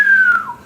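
A single loud, close whistling tone from an arrow flying through the air, a steady pitch that slides gradually lower and fades slightly over under a second.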